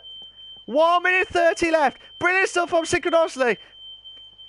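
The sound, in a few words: smoke alarm beeping in the background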